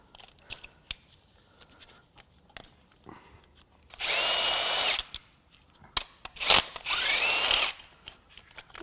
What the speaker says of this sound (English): Now we'll start unbolting the tensioner pulley here.